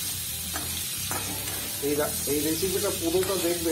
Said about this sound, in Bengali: এবার আমি এর মধ্যে সবজিটা নাড়াচাড়া করে নেব।